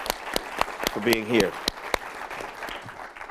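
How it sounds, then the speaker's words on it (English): An audience at a panel discussion gives a brief round of scattered handclaps, sharp isolated claps rather than a full ovation, with a person talking over and between them. "So again, another round of applause"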